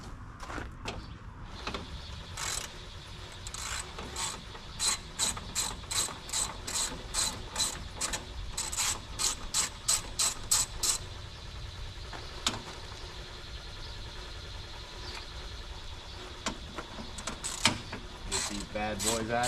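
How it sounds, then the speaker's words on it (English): A 10mm socket ratchet backs out grille bolts on a 2014 Chevrolet Silverado truck, with repeated clicking runs of rapid ratchet strokes close by, some pauses between bursts and faint handling noise. "I'm gonna be taking a 10mm and getting this grill out real quick."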